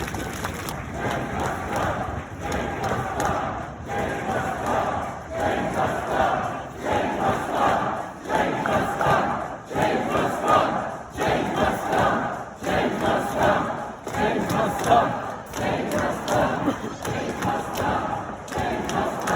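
A large protest crowd outside Lincoln cathedral roars loudly after speeches, its noise surging in regular rhythmic pulses with thudding beats, massed voices swelling and dipping continuously.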